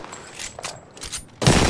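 Gunfire in the shooter game Apex Legends, likely from a Re-45 pistol: short bursts of shots at about 0.4, 0.6 and 1.1 seconds, then a louder, sustained blast of fire from 1.4 seconds on. No talking.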